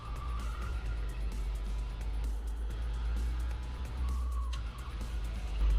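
Go-karts racing on a track at a karting competition in Corbas: a continuous loud engine drone with rising and falling whines as karts pass, heard from trackside without talk.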